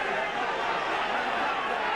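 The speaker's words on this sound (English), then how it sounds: "listen to the crowd" A large rugby match crowd at Gloucester against Bath in the rain roars as a dense, steady wash of voices and chatter, continuous and fairly loud with no distinct single calls.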